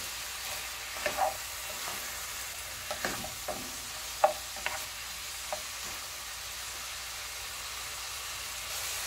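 Pork Bicol Express is stirred in a pan over a low, steady sizzle, with a few scattered scrapes and clinks of the spoon against the pan, quiet and close.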